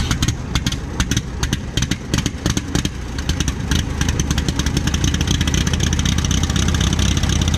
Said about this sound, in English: we are riding on a Ford 5000